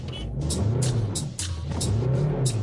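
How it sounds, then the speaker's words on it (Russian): A car engine revs hard as the driver accelerates, with rhythmic bursts of engine roar and a steady low drone, close and fairly loud, no talk. "Куда ты так газуешь?"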